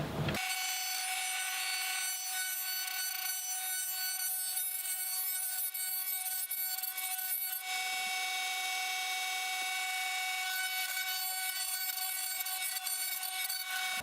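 Steady abrasive rasping of a tool worked around the base of a bamboo didgeridoo to round the mouthpiece, continuous and close for the whole stretch, with a brief lull midway and no talk.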